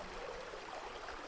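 A waterfall's flowing water makes a steady, soft broadband rush, unbroken and even for a brief moment.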